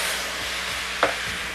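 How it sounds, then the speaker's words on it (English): Cognac poured into a hot pan of sautéed mushrooms to deglaze gives a steady close sizzle with a brief sharp hiss burst partway through, no voices. "It's time to deglaze with a jigger of cognac. Just pour it right into the middle of the pan."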